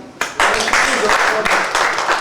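An audience claps during a business sales presentation, the applause arriving in loud bursting waves that rise and dip, with voices mixed in underneath.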